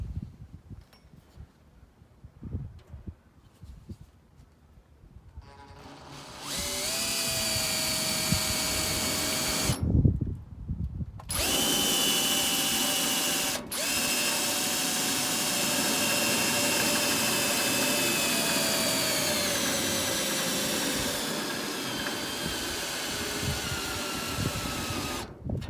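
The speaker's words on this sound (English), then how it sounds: "So I'm going to go ahead and drill out that hole now." After a few seconds of quiet clatter, a power drill whines loudly and steadily, drilling a large hole in a 1959/60 Chevy dash, pauses briefly, then resumes grinding on for a long stretch.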